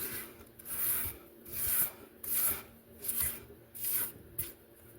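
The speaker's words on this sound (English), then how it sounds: "important is to scrape your sides" A spatula scrapes pound cake batter from the sides of a mixing bowl in five rhythmic, close rasping strokes with short pauses between them.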